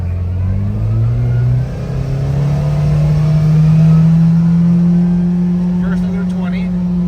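A 2024 Kawasaki Ridge XR side-by-side engine accelerating up a hill, with a loud, steady drone that climbs in pitch as it revs through the gears, close to the listener.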